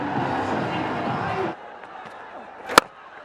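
A home crowd at a BPL 2025 T20 cricket match between Sylhet Strikers and Rangpur Riders roars as Ronnie Talukdar reaches his fifty. The dense cheer lasts about a second and a half, then drops to quieter ambience broken by one sharp bang.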